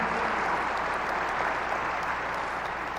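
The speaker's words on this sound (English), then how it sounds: "give Glenn a big round of applause" An audience at an Ace Hardware annual meeting keynote applauds steadily, a dense, even wash of clapping from a large crowd with no pauses.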